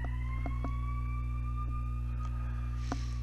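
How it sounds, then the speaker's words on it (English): An ambulance siren outside, its wailing tone faint and distant as it passes, rising and falling slowly over a low steady hum, with a few soft clicks nearby. "That one's truly an ambulance this time."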